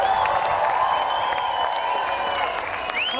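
Applause from a festival audience at an outdoor Ukrainian Days celebration, a steady dense wash of clapping from a crowd, loud and continuous throughout with no pauses.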